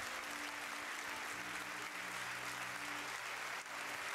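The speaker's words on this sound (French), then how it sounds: "un tonnerre d'applaudissements pour la lauréate du prix de toute une vie de travaux, Ursula Keller" A faint, steady wash of applause fills the hall at the European Inventor Award ceremony, continuous and even throughout without a break, as the audience honours a lifetime-achievement laureate.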